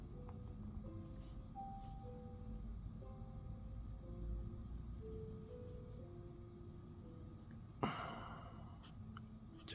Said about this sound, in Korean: 제 숨소리 조금 거칠죠.